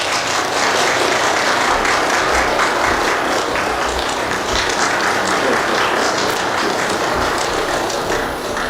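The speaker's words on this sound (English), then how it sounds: "Let's give a round of applause to President Xi Jinping." Sustained applause from a large audience for President Xi Jinping at a BRICS summit event in South Africa, dense clapping filling the whole stretch at steady loudness with no pauses.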